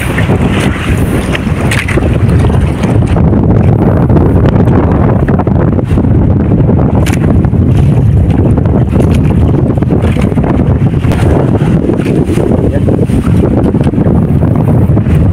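A strong northeast monsoon wind roars across the microphone by the coast, a loud continuous buffeting rush with gusty surges and crackling bursts of wind noise, unbroken for the whole stretch, with no voices.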